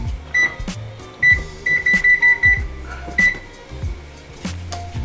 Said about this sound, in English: We're going to set our timer to 30 minutes.